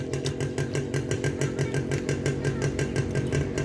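A motorcycle engine runs at a steady idle close by, a continuous low rhythmic putter with even, rapid pulses and no voices over it.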